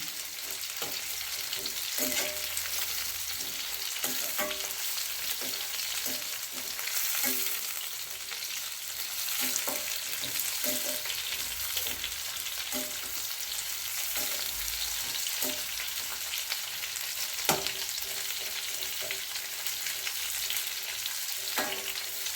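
Bitter gourd pieces sautéing in sesame oil over medium heat for a Chettinad-style kuzhambu. A soft, constant sizzle carries repeated light taps and scrapes of a spatula, with no speech.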